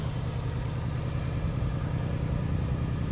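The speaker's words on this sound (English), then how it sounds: "Sitting there idling with the AC on." A lifted Toyota Tacoma pickup engine idles steadily nearby with the AC on, a low rumbling throb holding constant throughout without any talking.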